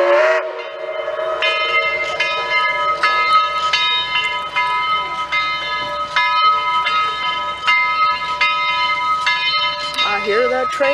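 The bell of locomotive 4501 clangs in a steady, repeating rhythm, loud and close, with a low rumble beneath and a brief voice near the end.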